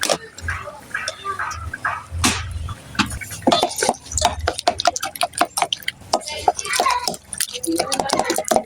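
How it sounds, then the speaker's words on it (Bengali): Two eggs beaten in a bowl for a pumpkin flower egg fry: rapid, rhythmic clinks of a utensil against the bowl grow busier and continue to the end. "এগুলো মিক্সিং করে নেওয়া হচ্ছে।"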